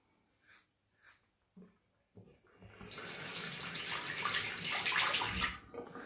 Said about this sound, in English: Sorry about the running water.